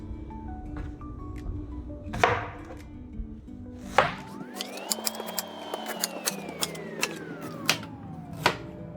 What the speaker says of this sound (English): So after washing my ginger, I'm going to cut it into smaller pieces in order to crush it quickly.